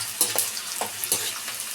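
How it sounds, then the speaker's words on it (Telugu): Onions and green chillies fry in hot oil with a steady close sizzle, broken by a few soft scraping stirs. "ఆనియన్ బ్రౌన్ కలర్లో వచ్చేంత వరకు మనం ఆయిల్లో ఫ్రై చేసుకోవాలి"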